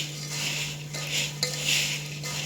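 Puffed rice and boiled potatoes tossed together in a bowl, with steady scraping and clinking of a utensil against the bowl at close range.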